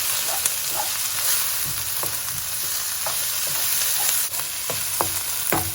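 Garlic, ginger and chopped chilli fry in a hot pan, a loud continuous sizzle with occasional clinks and scrapes of stirring close by, no talk.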